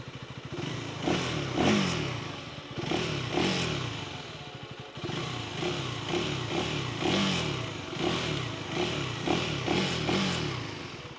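A 2023 KTM 390 Duke single-cylinder motorcycle with underbelly exhaust revs repeatedly, sharp throttle blips rising and falling in a steady rhythm, loud and close with a clattery mechanical edge and no talk.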